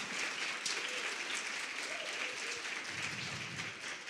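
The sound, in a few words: congregation applauding in church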